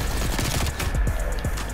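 Quick burst of Milano 821 submachine gun fire in Call of Duty Black Ops, a loud, close string of evenly spaced shots with a somewhat slow cadence, heard alone.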